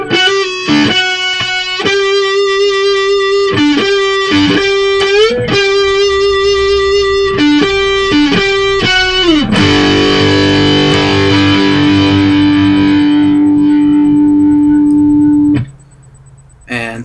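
Distorted electric guitar plays the ending of a song: loud, sustained chords with brief slides between them, then a final chord left ringing for several seconds before it cuts off abruptly.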